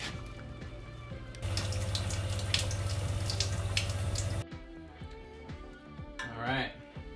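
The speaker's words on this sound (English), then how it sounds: "Turn on the faucet to let the water run for" A kitchen faucet runs to flush a newly installed Waterdrop G2 reverse osmosis system in a tiny house, a steady rushing stream for a few seconds that then cuts off, leaving quieter clatter and a brief splash.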